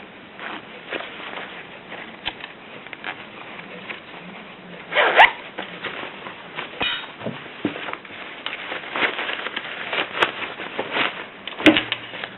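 An invisible zipper sewn into fabric is pulled closed at close range, with several short scratchy zip strokes and small handling noises over a quiet background.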